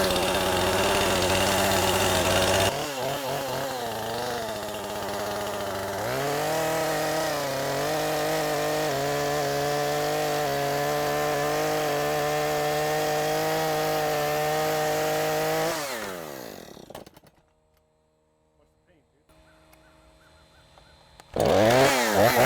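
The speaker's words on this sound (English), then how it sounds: "I'm gonna get the chainsaw" A chainsaw cuts a tree off a 1983 GMC Squarebody pickup, which has been stuck in the tree. It idles loudly, then revs to a sustained high whine while it cuts. The saw drops off and stops near the end, with brief quiet, then a burst of noise.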